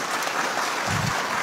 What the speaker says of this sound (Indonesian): Boleh tepuk tangan buat semuanya.